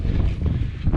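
Wind buffets the microphone during an outdoor run on an overcast day, a loud low rumbling roar that swells and dips for a moment.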